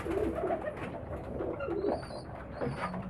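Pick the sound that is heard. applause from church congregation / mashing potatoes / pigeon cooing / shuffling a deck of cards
pigeon cooing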